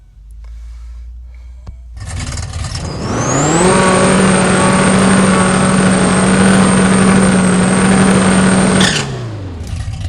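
Buick drag car fitted with a wheelie bar in the video game No Limit Drag Racing 2.0, engine rising from a quiet idle into a loud sustained full-throttle run, then cutting off near the end.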